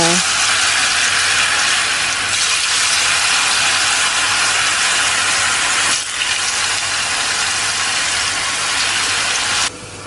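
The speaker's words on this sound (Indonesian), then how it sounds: "Kalau sudah dipotong-potong semuanya, kita akan goreng terlebih dahulu tahunya." Diced tofu fries in hot oil with a loud, steady hiss and crackle that runs continuously, broken briefly near the middle and easing slightly near the end.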